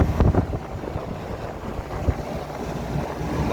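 A rooftop air-conditioning unit that runs but does not cool gives a steady, broadband mechanical rumble with a wind-like airflow hiss. It holds fairly constant at close range, with a few soft knocks and no voices.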